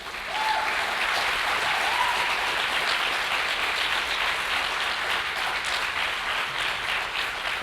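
Steady, sustained applause from a commencement awards ceremony audience welcoming a graduation speaker, dense clapping holding at an even level throughout with no speech over it.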